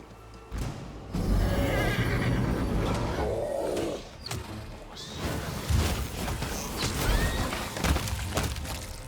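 In the video game Pathfinder: Wrath of the Righteous, a horse gives a loud whinny, followed by clattering crashes and hoof clops amid scattered impacts and game effects.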